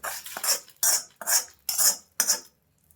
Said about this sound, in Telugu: ఇప్పుడు ఈ పోపుని చట్నీలకు వేసేసుకోండి